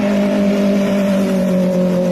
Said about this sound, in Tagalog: may nasalubong akong inline 4 na motor